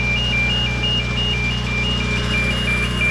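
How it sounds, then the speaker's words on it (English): An alarm gives a thin, steady electronic beep that repeats in an even on-off pattern, faint over a loud constant hum. "I'd love to break that freaking alarm, but it's a rental."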